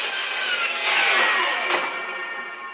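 A saw cuts a wooden board to length with a loud, close, rasping whine that gradually fades as the cut finishes.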